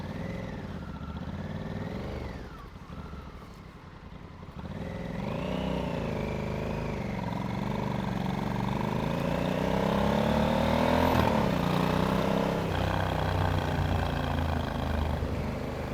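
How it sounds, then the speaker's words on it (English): A motorcycle engine runs close by with a low, steady purr, its pitch drifting gently up and down as it idles and blips. "I love listening to that little purr."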